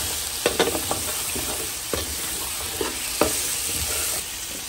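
Shrimp and chicken fry in a pan for fried rice, a steady loud sizzle with a few sharp spatula scrapes and clacks as the pieces are stirred; no voices.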